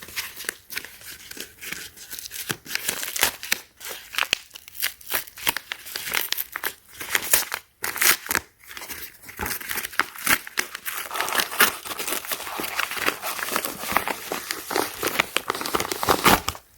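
Plastic and cardboard packaging for BRUUSH toothbrush replacement heads being crinkled, torn and opened, with steady crackling and rustling close by for most of the stretch, and no talking.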